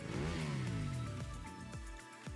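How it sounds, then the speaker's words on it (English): A car engine in the video game Nikke, started by a keychain remote starter, turns over and revs with a rising then settling tone, steady and fairly prominent, with no talking. "The familiar sound of an engine rumbles from somewhere in the distance."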